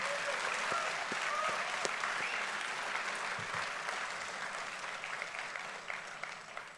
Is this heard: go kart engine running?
no